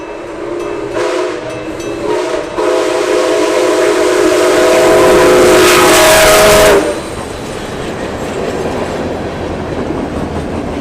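CP 2816 steam locomotive on the Final Spike Steam Tour sounds its steam whistle in a few blasts, the longest swelling loud in the middle, over the rumble and clatter of the passing train.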